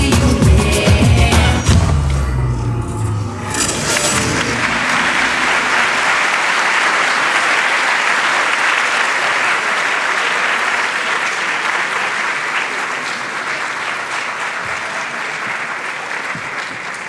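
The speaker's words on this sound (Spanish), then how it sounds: "brindándole un aplauso nuevamente" Sustained, enthusiastic audience applause fills a hall after an independent dance troupe finishes performing at a kinesiology conference, following the fading end of the pop music, steady and loud for many seconds.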